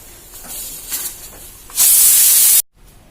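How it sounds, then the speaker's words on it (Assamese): A pressure cooker cooking masoor dal on a gas stove hisses softly at first, then bursts into a loud, sharp jet of escaping steam for nearly a second before it cuts off abruptly into near silence. "3টা চিটি দিয়ালৈকে আমি এতিয়া অপেক্ষা কৰিম"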